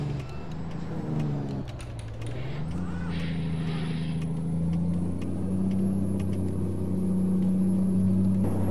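A Mack RS700L truck in American Truck Simulator hauls a gasoline tanker, its engine brake producing a deep, steady rumble with rising and falling tones. The sound is loud and close and runs continuously with a faint ticking.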